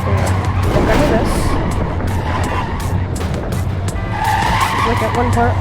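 Cars skid and screech in the video game Clustertruck, with tires squealing loudly and continuously over a roaring racing engine, the sound dense and unbroken throughout.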